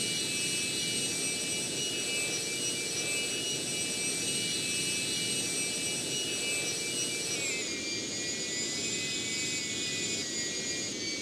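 A jet aircraft engine roaring at full afterburner in a flight simulator game, a loud continuous whine and rumble with steady high tones that dip slightly in pitch partway through, alone without talk.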